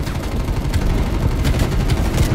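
Dense, continuous light machine gun fire from Call of Duty Cold War, a rapid rattling burst that stays loud and close throughout with no pauses or voices.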